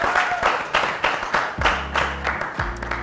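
Audience applause at a business pitch competition grand finale as a microfinance CEO is welcomed, with scattered claps over a crowd murmur and some low background music or tones joining partway.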